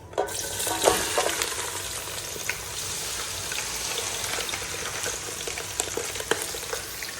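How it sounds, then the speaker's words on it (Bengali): Onions dropped into hot oil with cardamom pods, frying with a steady broadband sizzle and occasional scraping stirs, fairly close and continuous with no talking. "এই পর্যায়ে আমি দিয়ে দেবো পেঁয়াজ দুটাই সমান ভাগ করে"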